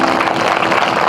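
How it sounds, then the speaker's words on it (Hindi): A church congregation at a convention in Nabarangpur, Odisha, claps loudly in praise, a dense, continuous wash of many hands close by with no break. "परमेश्वर की महिमा में ताली बजाएं।"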